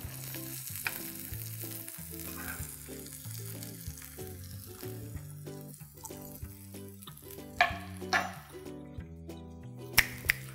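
Fish fries on a tawa over a low flame with a soft, steady sizzle, while a few louder crackles pop near the end and background music plays throughout.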